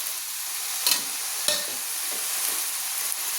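Garlic paste fries in a pan with a constant bright sizzle, while a spatula stirs it with a few distinct scraping strokes close by.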